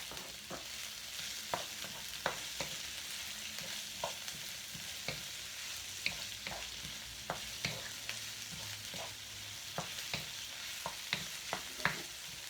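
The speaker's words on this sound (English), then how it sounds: "Next, we're going to fry our spring onions." Spring onions stir-frying in a pan for vegetable fried rice, a continuous sizzle broken by frequent quick taps and scrapes of a utensil, close, no talking.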